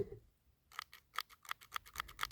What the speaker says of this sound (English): that's the trigger, man